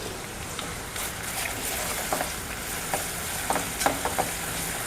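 Ginger garlic paste fries in a pan with a steady, moderate sizzle and a few soft clinks and stirring scrapes scattered through.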